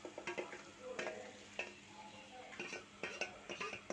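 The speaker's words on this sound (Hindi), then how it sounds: "भिंडी को प्याज के साथ अच्छे से फ्राई करेंगे" Sliced okra (bhindi) fries with onion in a pan, a soft steady sizzle broken by repeated scraping and clinking of a spoon stirring against the metal.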